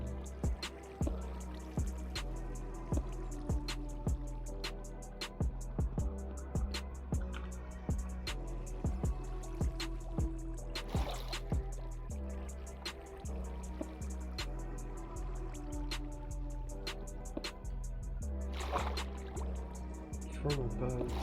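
Water drips and trickles from above in a roofing video game, a steady run of sharp drops over a continuous low liquid wash, with a person talking throughout.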